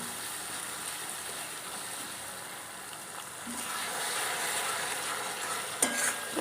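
Fish pieces frying in oil in a pan for a South Indian style fish curry, a soft continuous sizzle and crackle that grows slightly louder midway, with a brief clink of a utensil near the end.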